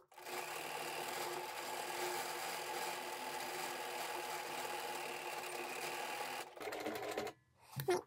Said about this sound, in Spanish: este patrón voy a coserlo para que veáis cómo, cómo he creado mi propio patrón.